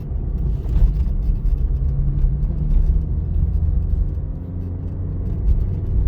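A car drives steadily through town streets during a practical driving test, giving a continuous low engine and road rumble heard from inside the cabin, with no talk over it.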